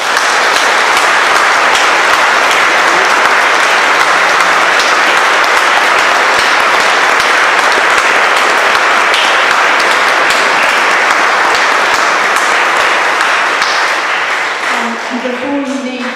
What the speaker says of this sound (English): Finally, I'd like to ask you to give one more round of applause to Tessa McWatt, JB, and Margaret Fingerhut.